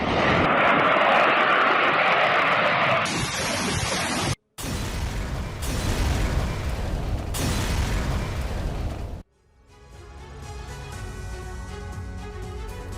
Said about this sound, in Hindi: यूक्रेनी मिलिट्री पोस्ट पर गिराए गए बम हमले के लिए रूस ने Su-25 का इस्तेमाल किया है